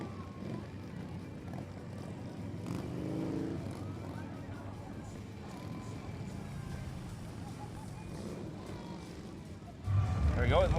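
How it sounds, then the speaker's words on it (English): Shriners ride motorcycles in the UCF homecoming parade in Orlando, their engines rumbling under a commentator's talk, with a louder rev near the end. "All right, Gina, let's see what these Shriners can do on their motorcycles."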